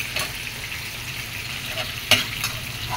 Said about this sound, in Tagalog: Ayan, igisa na natin ang ating bawang.